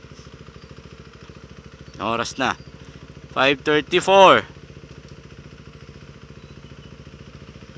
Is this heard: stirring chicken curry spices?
no